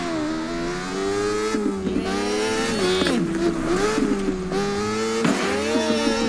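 Kawasaki Ninja H2R motorcycle engine in The Crew Motorfest video game, a loud sustained high-revving whine with pitch rising and dipping as it accelerates and shifts, heard with no talking.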